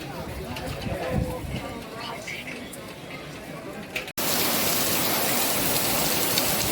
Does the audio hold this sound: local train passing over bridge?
no